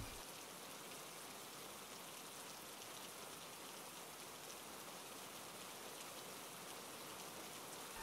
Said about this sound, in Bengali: বৃষ্টি কমবার কোনো লক্ষণ নেই।